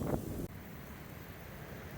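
Wind buffeting a microphone in a valley in Kent, a constant rough low rumble and hiss with a heavier gust at the start, no voices.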